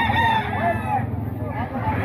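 A seven-month-old rooster crows loudly and close by, a drawn-out cock-a-doodle-doo over a busy background of other fowl clucking at a poultry market.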